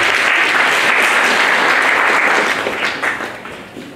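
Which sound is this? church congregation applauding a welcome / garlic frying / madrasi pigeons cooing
church congregation applauding a welcome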